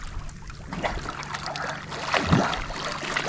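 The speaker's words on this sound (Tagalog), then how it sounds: "mayroon na naman paparating na isang bangka." A small boat approaches across open water, its steady washing rumble mixed with wind noise and rising briefly louder near the end, with no one talking.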